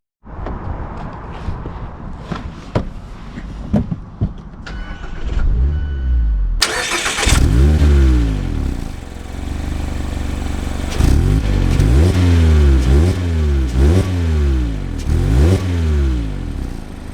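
A new Mazda Miata soft-top with the BBS and Brembo package cranks and fires up after faint rustling, then revs and accelerates loudly through several rising sweeps close to the microphone.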